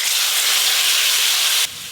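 Fried spices and chopped onion are tempered in a pan on a rural clay stove, giving a loud, steady sizzling hiss that cuts off abruptly near the end.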